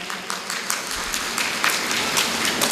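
An audience at a devotional Bhagwat Katha gathering applauds loudly for a birthday, a dense continuous wash of clapping lasting a few seconds.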